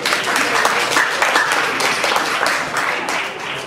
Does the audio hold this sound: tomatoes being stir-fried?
no